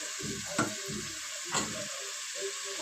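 Rice fries in a pan with a steady, even sizzle throughout, plus a few soft stirring scrapes, fairly quiet with no voices.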